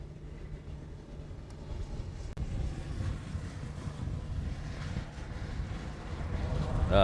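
An airplane departs Honolulu airport for Kailua-Kona, a low engine rumble building steadily and growing louder toward the end, with a voice talking over part of it.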